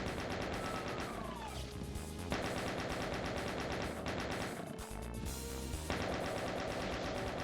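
Rapid automatic gunfire from a turret in the first-person shooter Doom, a dense continuous rattle of shots mixed with game explosions and music, loud and steady throughout.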